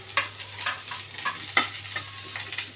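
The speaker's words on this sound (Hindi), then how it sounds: "इसको भी अच्छी तरह से मिक्स कर लेंगे।" Spoon stirring through a pan of spiced potato masala with fresh green coriander, a series of soft scraping strokes over a faint sizzle, close and steady, with no talk.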